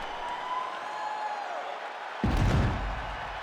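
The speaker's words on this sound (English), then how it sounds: "So the crowd voicing its appreciation after that round." Virtual arena crowd in the EA Sports UFC 5 video game bursts into loud applause and cheering after a round between fighters, erupting suddenly partway through over a quieter steady backdrop.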